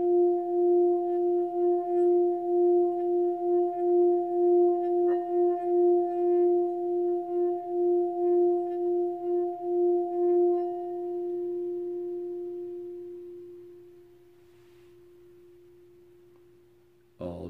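A singing bowl's rim is rubbed, producing a sustained pure ringing tone with a gentle pulsing waver that slowly fades, ending with a brief knock.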